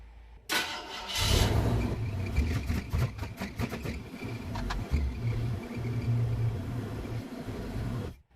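A homemade wasteland-build vehicle engine cranks briefly, fires and settles into a rough, uneven running rumble close by for several seconds before cutting out, with no voices.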